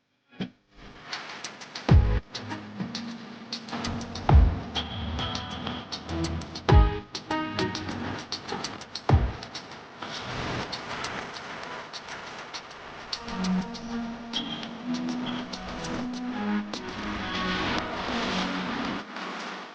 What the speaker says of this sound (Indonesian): Saat ini kita sedang berada di dalam bus Transjakarta Koridor 13B dengan rute Pancoran Puribeta.